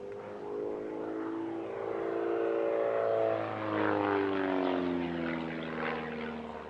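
A Pitts S1S single-seat aerobatic biplane with a 180 hp Lycoming IO360 engine passes at an air festival, its propeller drone rising and falling in pitch as it sweeps by at a moderate distance, steady and without voices.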